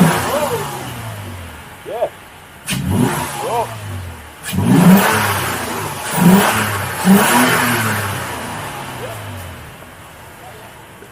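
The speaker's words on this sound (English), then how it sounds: "you definitely get a lot more intake sounds" A Toyota Tacoma engine with a cold air intake revved repeatedly from idle in a series of short, loud blips with strong intake roar, and people talking briefly between the revs.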